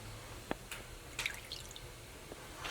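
Rinse water draining and dripping from a jar of sprouting seeds, faint isolated drips and small splashes scattered irregularly over a quiet background.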